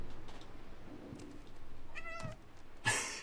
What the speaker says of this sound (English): What are you meowing about, Ginger?